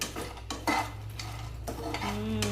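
Makhana, cashews, almonds and cardamom being dry-roasted and stirred in a kadhai, with a steady scraping and clinking of a spoon against the metal pan, close and continuous, with a few louder knocks.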